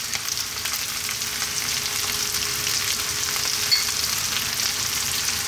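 Lamb siga tibs fries in a pan with Ethiopian spiced butter (kibe), a loud, even, hissing sizzle that runs without a break, with a faint hum beneath.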